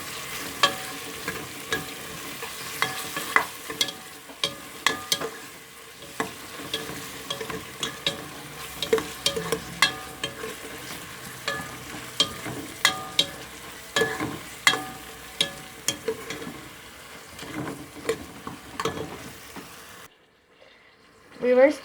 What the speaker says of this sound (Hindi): अदरक लहसुन के पेस्ट को भी प्याज के साथ हम भून लेंगे